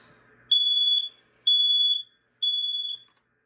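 A smoke alarm gives three shrill, evenly spaced beeps, each about half a second long, loud and close with silence in between.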